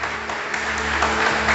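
A church congregation claps together for Jesus during a Portuguese-language service, a dense, steady wash of hands that stays even and close throughout the brief burst, with low hum underneath.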